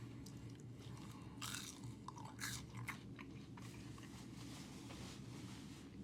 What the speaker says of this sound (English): Fries are nice and crunchy.